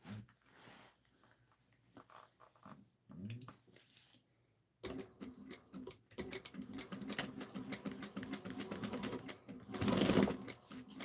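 A sewing machine stitching a Miranda tote bag, starting with faint handling and fabric rustles, then a close, steady run of rapid mechanical needle clatter that swells louder near the end.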